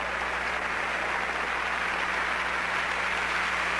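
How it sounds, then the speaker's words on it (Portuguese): A church congregation applauds in a dense, continuous wash of clapping that holds at an even level throughout, with no speech. "Vamos aplaudir o Senhor!"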